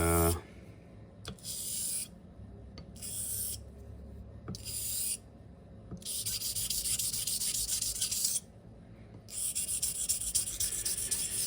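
A straight razor with a smiling blade is honed on a Japanese natural finishing stone, giving close, raspy rubbing strokes in repeated bursts separated by brief quiet pauses.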